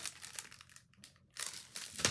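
Plastic packaging crinkles in bursts while MacBook accessories such as a hard shell case are unboxed, close and fairly quiet, with a brief pause in the middle.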